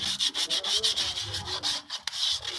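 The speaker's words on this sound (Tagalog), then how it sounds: "Ito yung liha, lihahin nyo ulit." Rapid rhythmic scratching of sandpaper rubbed back and forth against a vehicle brake lining, close up, with no talking.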